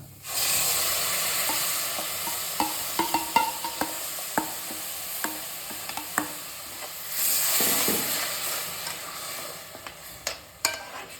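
Tomato puree fries in hot oil for channa masala, a steady close sizzle and hiss broken by repeated clicks and scrapes of a spoon stirring against the pan.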